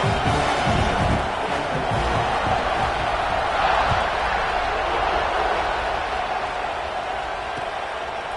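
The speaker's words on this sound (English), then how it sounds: "this crowd is buzzing after that last score" A football stadium crowd buzzes after a score at a CCL versus Georgia game, a dense, sustained murmur of many voices that fills the space evenly and fades slightly toward the end.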